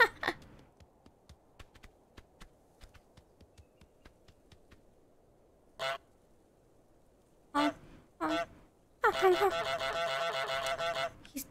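Goose in Untitled Goose Game, the video game, honking in a few sharp bursts between sparse clicks, ending in a dense run of loud repeated honks.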